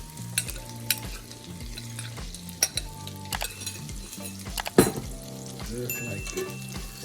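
Salt-and-pepper seasoned eggs dropped into a pan with sausage, a steady frying sizzle under repeated stirring scrapes and occasional utensil clinks, one sharp knock midway, no speech.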